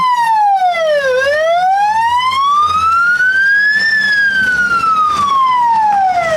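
An air-raid siren wails loudly, sweeping up and down in long, slow cycles, steady and close, over the low engine rumble of an armoured vehicle, in Ukraine.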